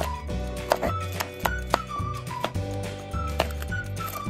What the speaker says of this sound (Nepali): अब म क्याप्सिकम पनि काट्छु।